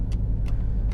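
A 1999 Pontiac Firebird Trans Am WS6 with low mileage, its engine giving a loud, steady low rumble heard from close by, with a few brief higher clicks or rattles on top and no talk.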